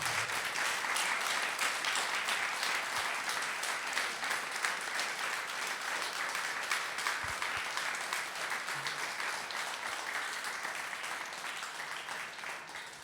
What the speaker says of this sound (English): So can we please have a huge round of applause for these volunteers.